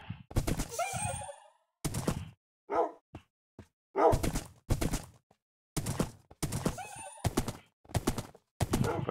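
A big, hefty horse in Minecraft gives repeated whinnies, snorts and breathy neighs in short separate bursts with silent gaps between them, close and clear, with some hoof clip-clops mixed in.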